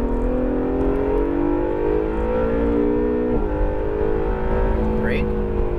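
An Acura NSX engine drones steadily on a race track, its pitch climbing gradually under acceleration, with a brief shift-like dip midway, while a voice gives driving instructions over it.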